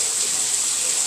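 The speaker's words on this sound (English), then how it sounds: "We're just going to put water right in the hot tank" Steady stream of water running into the hot tank of a parts washer with a heater, a continuous, even hiss with no talk.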